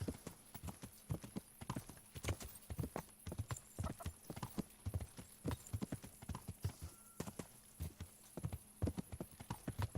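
Steady clip-clop of horse hooves on a road in the medieval game Kingdom Come: Deliverance, a brisk repeating rhythm, close and clear, with the horse snorting faintly.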